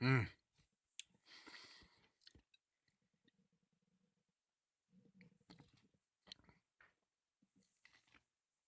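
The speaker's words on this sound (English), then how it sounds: "I also don't know if you can hear all the chewing and stuff that's going on." Close, quiet chewing of pie: sporadic wet, squishy bites and soft mouth clicks separated by near-silence.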